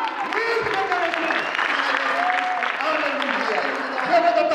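A church congregation claps in applause throughout a sermon, a steady patter of many hands heard beneath a voice speaking and singing over it.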